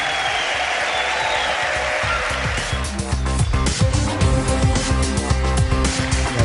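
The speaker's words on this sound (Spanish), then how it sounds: "con ese aplauso que os damos" A congress hall audience applauds loudly and continuously, and a thumping musical or amplified rhythm with low tones comes in partway through and builds under the clapping.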